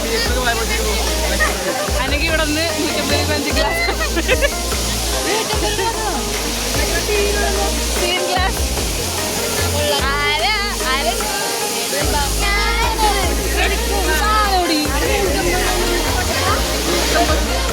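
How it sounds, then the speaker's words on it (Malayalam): Mangalam waterfall roars as a steady broadband rush of falling water, loud and continuous throughout, with people talking and chattering over it. "വെള്ളച്ചാട്ടം."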